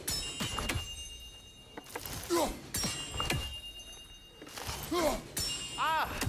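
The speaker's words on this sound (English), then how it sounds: "the sound of the chimes is not unpainful at this distance" Bright metallic chimes ring out in a God of War Ragnarök side-quest after a thrown hit, several shimmering tones with tapering decays spread across the moment, heard among game sounds and a voice.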